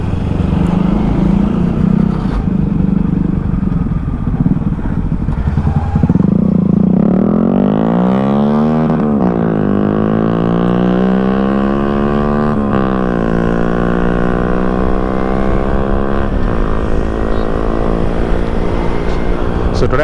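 An eight-year-old Kawasaki Ninja 300 carrying a heavy rider accelerates hard toward top speed, its engine pitch climbing steadily and dropping back at each of several gear changes, with constant loud wind roar throughout.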